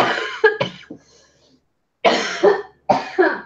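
A person coughs harshly several times in quick clusters, a pair of rough hacking bursts, a pause, then two more loud coughs up close.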